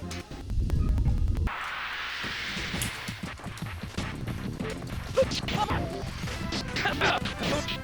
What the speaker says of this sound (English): the sound of swords